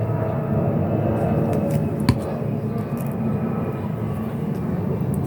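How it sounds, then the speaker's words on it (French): Airplane passing overhead, a steady distant drone heard through an open window, with a sharp click partway through. "Vous entendez un avion qui passe."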